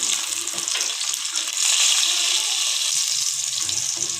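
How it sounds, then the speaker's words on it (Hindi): Minced meat goes into a hot pan with whole garam masala and green chillies, setting off a close, hissing sizzle that surges about a second in and then keeps crackling steadily. "और इसमें हमने कीमा डाल दिया है। कीमे को अच्छे से हम इसमें मिक्स कर देंगे।"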